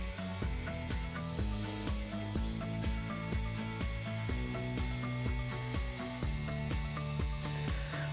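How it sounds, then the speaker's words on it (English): Steady rhythmic rasping of a hand saw cutting a curve in wood for a sofa backrest, even back-and-forth strokes repeating close by with no voices. "Now I am cutting out a curve for the top part of the backrest."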